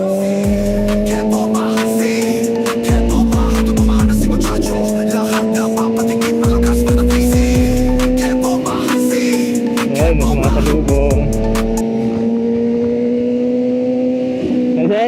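A Kawasaki Z900 motorcycle revs up close through repeated shifts. The pitch rises, drops sharply at each change and climbs again in a steady cycle under loud, continuous engine roar.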